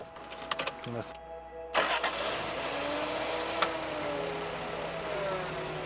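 The 25-year-old engine of an RV cranks with a few chattering starter bursts and then catches and settles into a steady, even idle that stays close and constant. A voice speaks briefly over it.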